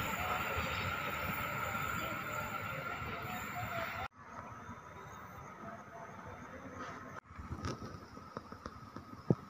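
The Pangrango passenger train runs fast along the rails at Kebon Kalapa, a loud rushing rumble of wheels that breaks off abruptly, then quieter track noise with scattered clanks and knocks.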